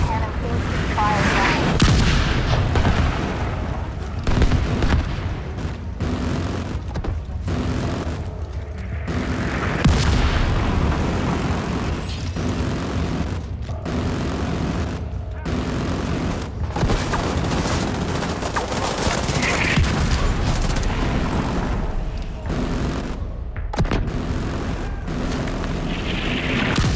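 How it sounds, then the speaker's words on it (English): Autocannon bursts and mortar explosions in a combat video game, a dense run of repeated booms and gunfire under constant battle noise, with a voice talking over it at times. "The autocannon seems to be firing."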